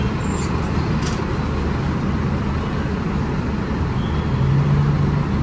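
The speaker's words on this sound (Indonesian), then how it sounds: "Ini padat banget ya lalu lintasnya." Dense road traffic in Jakarta heard from a busway, a steady broadband rumble of cars, buses and trucks with a low engine drone swelling near the end.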